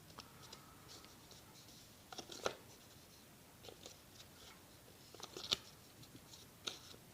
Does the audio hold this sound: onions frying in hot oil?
no